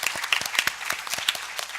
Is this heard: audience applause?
yes